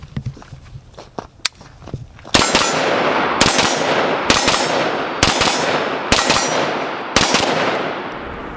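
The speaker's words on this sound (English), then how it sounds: "So let's go back to some CQB shooting now." Close-range AK rifle shots during close-quarters shooting practice: a few quiet clicks and clanks, then five or six loud, evenly spaced single shots, each with a sharp crack and a ringing decay.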